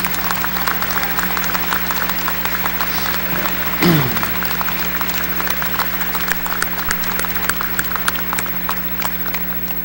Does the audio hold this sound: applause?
yes